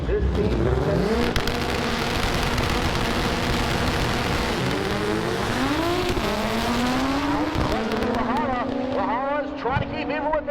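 Drag race cars scream down a quarter-mile strip, engines revving and shifting up in rising pitch sweeps, loud and sustained, with an announcer's voice calling the run over the noise.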